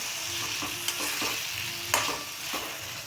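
Chopped ridge gourd fries in a pan under a soft steady sizzle while a spatula stirs it, making several distinct scrapes and clacks against the metal. No one talks.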